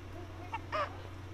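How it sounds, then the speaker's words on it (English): A bird calls briefly at a zoo, two short honking cries with the second louder and longer, heard alone over a steady low background hum. "You know what happens to birds that try to get in."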